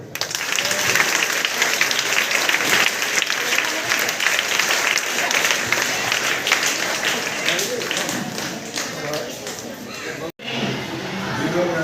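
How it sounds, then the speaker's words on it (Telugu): Students clap at a school RO water plant inauguration, sustained dense applause from a large crowd with voices mixed in, continuing loudly throughout before a brief cut near the end. "విద్యార్థులు క్లాప్స్ కొట్టండి"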